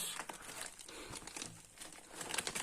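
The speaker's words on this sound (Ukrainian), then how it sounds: "Пропоную до огляду розпакування посилки з сайту AliExpress" Packaging from an AliExpress parcel holding an XS8 Pro Ultra smartwatch crinkles and rustles continuously at close range as it is handled and opened, with a few sharper tearing crackles.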